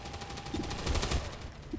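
Suppressive fire in XCOM 2 rattles off as a fairly quiet burst of repeated shots, moderately distant and alone without speech.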